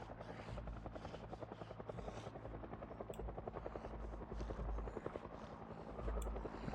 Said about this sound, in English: Freaking hate the helicopters.